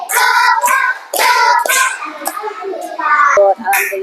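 Schoolchildren in an Islamic religious education classroom perform a rhythmic clapping chant, loud and close, with bursts of sharp hand claps between group chanting voices.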